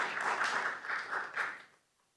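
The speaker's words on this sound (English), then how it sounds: "Everyone give Brad a round of applause." Brief round of applause at a county board of commissioners meeting, a small group clapping at moderate level for under two seconds before it fades out into quiet.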